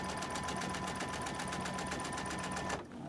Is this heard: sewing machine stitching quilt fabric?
yes